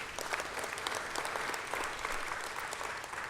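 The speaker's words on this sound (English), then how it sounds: "give yourself a round of applause for being here" An audience claps in steady, fairly dense applause that holds at an even level throughout, heard from within the room.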